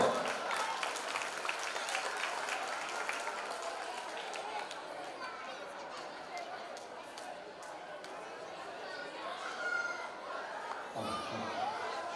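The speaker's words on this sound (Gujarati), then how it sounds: "એકવાર જોરદાર તાળીઓથી વધાવશો." An audience at a Krishna Janmashtami celebration in Mumbai applauds with sustained, dense clapping that slowly thins out, while chatter and crowd noise carry underneath.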